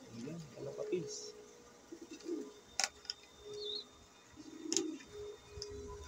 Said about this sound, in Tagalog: Ito, kalapatids, ang ating buhay ibon.